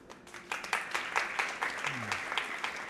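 An audience at a Misk Global Forum 2023 leadership session claps steadily, a dense spatter of hand claps with small swells, and a faint voice runs underneath.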